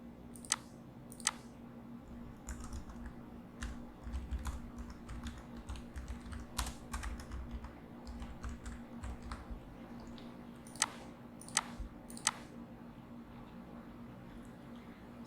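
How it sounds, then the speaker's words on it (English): Code being typed on a computer keyboard, with a run of soft, rapid key clicks interrupted by a few sharper taps, close and fairly quiet with no talking. "after typing my code inside the code cell, I need to click the run button."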